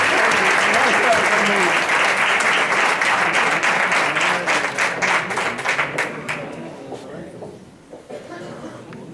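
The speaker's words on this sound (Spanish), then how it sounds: "Un aplauso para ella." Audience applause breaks out after a singer is introduced on stage at a saeta exaltation concert in Spain, a dense crowd clapping steadily at full strength for several seconds before thinning into scattered claps and fading.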